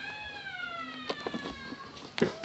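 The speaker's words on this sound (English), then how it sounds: "Lucy, the meow." A pet cat gives a few faint, short meows indoors, quiet and close, with soft background noise and some thumps between calls.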